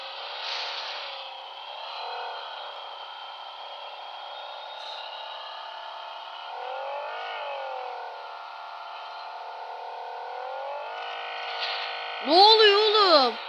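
A car in PUBG Mobile drives with a steady, buzzing engine drone whose pitch rises and falls, then ends in a burst of louder clattering as the vehicle flips.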